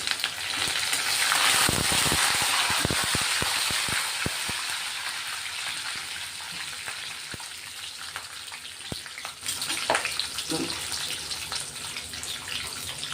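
Curry leaves hitting hot oil for a sprouted mung bean usal, a loud crackling sizzle with sharp pops that gradually settles into a softer, steady hiss, close and with no talking.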